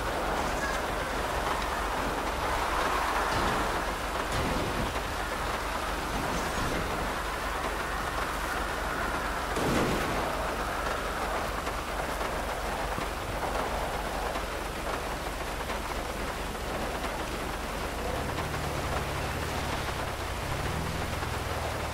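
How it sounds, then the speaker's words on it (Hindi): Steady rain pours in Grand Theft Auto V, a continuous broadband hiss with a few heavier splashes and a low rumble near the end, heard alone without any talking. "क्योंकि बारिश हो गई है ऊपर से"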